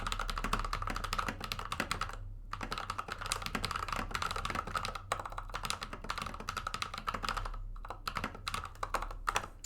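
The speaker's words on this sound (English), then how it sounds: "I hope you guys can hear the keyboard reasonably clear." Rapid, continuous computer keyboard typing during an esports match, with dense clicky keystrokes and a few brief pauses and no talking.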